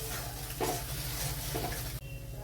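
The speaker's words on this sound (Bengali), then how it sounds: "মশলাটা দিয়ে বেশ সুন্দর করে কিছুক্ষণ কষিয়ে নিতে হবে, যতক্ষণ না মশলার তেল ছাড়ে।" Spice paste for mochar dhoka, a Bengali banana-flower dish, fries in oil with a soft, steady sizzle, and a spoon scrapes the pan twice. The sound is faint and there is no talk.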